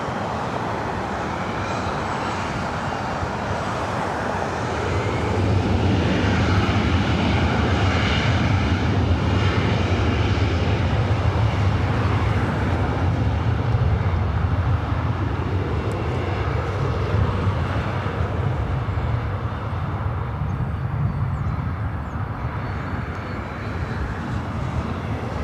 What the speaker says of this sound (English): It's an A330 Neo coming in from Rome